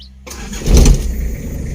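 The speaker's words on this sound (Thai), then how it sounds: "ฟังเสียงนะครับ เสียงเครื่องยนต์ของรถคันนี้" A Toyota Mighty-X single-cab pickup truck engine cranks and catches, rising to a loud rumble before settling into a steady, close idle.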